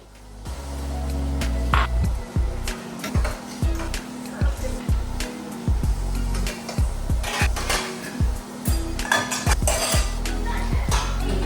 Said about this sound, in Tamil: அதுக்கப்புறம் வந்துட்டு பாத்திரம் க்ளீன் பண்ண ஸ்டார்ட் பண்ணிட்டேன்.